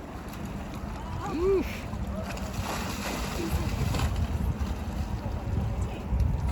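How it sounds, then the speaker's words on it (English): A zoo animal at Brevard Zoo splashes and rolls in a mud bath, making a continuous wet churning with a few louder surges. Someone lets out a brief exclamation over it. "Hear him splashing."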